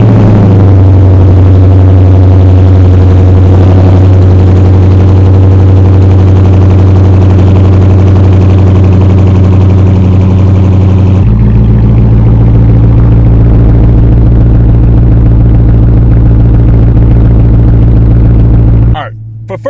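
Dodge Challenger R/T with a 5.7L V8 HEMI idling loudly and steadily after a cold start, a deep continuous rumble that shifts in tone partway through and cuts off near the end.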